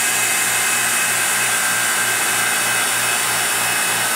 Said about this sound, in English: Just take your epoxy, put it in your vacuum chamber, and start pulling a vacuum.